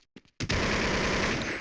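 Sustained automatic rifle fire in Counter-Strike 1.6, a few short clicks then a loud, continuous rattling burst close by, running without pause to the end.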